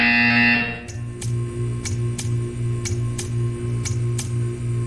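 A buzzer in the video game Portal 2 sounds once, loud and sustained, cutting off abruptly and followed by a steady series of evenly spaced ticks over a low hum.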